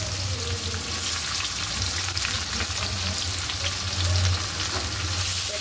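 Freshly chopped onions tipped into a hot pan crackle and sizzle loudly and evenly for several seconds, with faint stirring and no voices.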